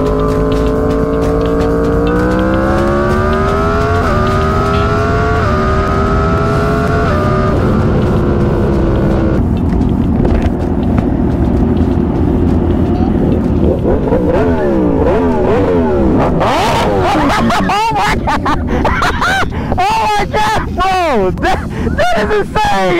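A 300 hp Kawasaki Ninja H2 motorcycle accelerating hard, its engine note rising loudly through successive gears close by, with rapid revving and a whining climb toward the end.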